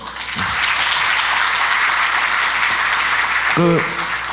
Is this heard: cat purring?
no